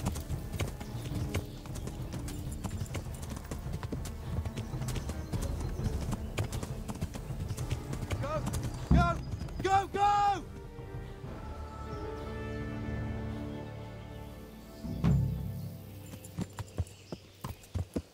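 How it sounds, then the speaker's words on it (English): Horse hooves gallop in a rhythmic clip-clop in the medieval game Kingdom Come: Deliverance, with a sharp neigh partway through and a few scattered hoof thuds near the end as the ride slows. "A very impressive ride, Henry. Truly. And on a horse from Neuhof."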